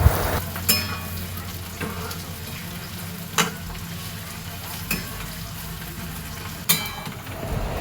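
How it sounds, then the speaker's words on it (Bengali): Onions frying in hot oil in a wok for a simple chicken dish, a steady close sizzle broken by a few sharp clacks of stirring, with no talking. "আস্তে আস্তে পেঁয়াজগুলো একটু একটু করে দিয়ে দিলাম তেলের উপরে এবার পেঁয়াজটাকে সামান্য হালকা ভাজবো"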